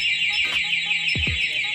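A Honda Click v3 motorcycle's aftermarket two-way anti-theft alarm sounds a loud, steady electronic siren tone with a wavering pitch, close by, over a couple of quick low thumps and no talking.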